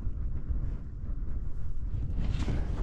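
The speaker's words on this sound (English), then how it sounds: "The wind's really picked up anyway, by the way." Strong wind at a wild camp in the Cheviots, buffeting the microphone as a steady, loud, low rumbling roar with no voices.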